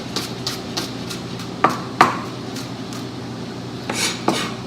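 A knife slices garlic and shallots on a cutting board, giving light scraping and tapping with a few sharper knocks, close and moderately quiet. No voice is heard.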